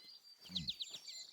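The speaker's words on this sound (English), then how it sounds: "Listen to that bird." Bird call in the hunting game theHunter: Call of the Wild, a quick series of bright chirps and trills over a faint, quiet ambient background.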